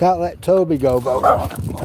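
A dog on a seaside promenade gives a few close, pitched barks and whimpering yips, overlapping with a person talking nearby.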